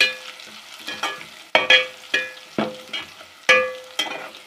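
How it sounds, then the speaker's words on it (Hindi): Vegetable masala frying in a pan while being stirred, with a soft sizzle under repeated sharp scraping and clanking strokes of a spoon against the pan, about two per second, close by and with no voices. "इसको भी करेंगे हम एक मिनट तक फ्राई"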